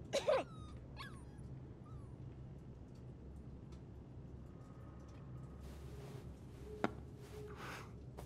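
A puppy's whimpers and soft yips in Life is Strange 2, a couple of short high cries near the start over a low steady ambient hum, then quieter scattered sounds.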